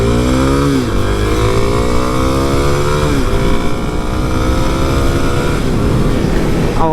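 A 2022 Kawasaki KLX-300 dual-sport motorcycle revs hard while riding, its engine pitch climbing and dropping through repeated gear shifts, loud and steady from start to finish without speech.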